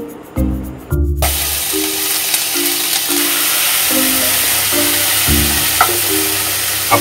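Garlic paste and green chilli frying in butter and white cooking oil, a steady close sizzle with a soft crackle throughout and a few brief tonal clinks over the hiss.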